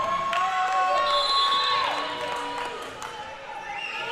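A volleyball crowd at a Sacramento State women's college match against Idaho State cheers and whoops at set point, a loud, sustained roar with whistles and shouts from the stands.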